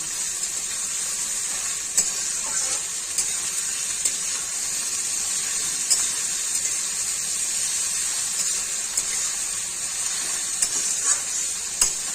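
Chicken fries in a pan with a steady close sizzle, broken by a few sharp pops and stirring clicks, with no one talking.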